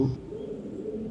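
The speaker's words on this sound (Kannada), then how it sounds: "ದೂರದಲ್ಲಿ ಗೂಬೆ ಕೂಗುತ್ತಿತ್ತು" A low, soft owl hoot carries from a distance, steady and muted against quiet surroundings.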